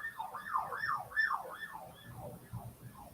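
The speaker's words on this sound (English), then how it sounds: "That was an ambulance, by the way, so my bad for that." A passing ambulance siren wails in a rising and falling cycle, somewhat distant and moderately faint, heard outdoors from a home beside a main highway, slowly fading as it moves away.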